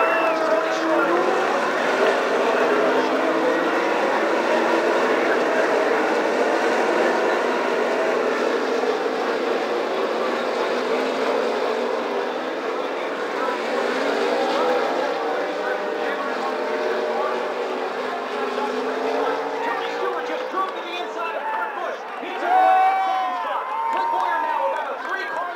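NASCAR Sprint Cup race cars roar around the Infineon road course during a final restart, a loud sustained engine drone with shifting pitch as cars pass, under continuous race commentary.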